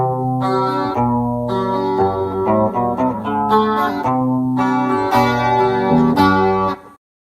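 A clean electric guitar plays chords and notes through a chorus stompbox, with a shimmering, wavering chorus effect, then rings out and stops.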